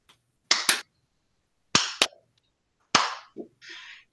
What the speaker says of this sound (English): Let's start our clap.